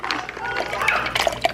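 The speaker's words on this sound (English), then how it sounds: "add water" Water pours into a container of cashews for a plant-based cashew sauce, a short splashing fill mixed with light clinks of kitchenware, close by.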